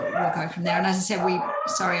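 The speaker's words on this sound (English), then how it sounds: "I don't know if you can hear my dogs in the background." Dogs bark and whine in the background of a home, fairly loud and close behind a person speaking throughout.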